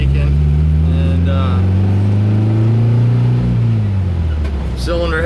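Air-cooled engine of a 1971 VW bus with leaking case halves and cylinder heads, droning steadily while driving, its pitch rising and falling through a rev, with someone talking over it.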